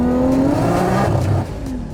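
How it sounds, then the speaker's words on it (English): An 800 HP Nissan Skyline R33 GT-R engine roars loudly up close as it accelerates hard in second gear on a cold mountain road near Tokyo, tires spinning and squealing, then the revs drop off abruptly. "just tearing through the tires in second gear"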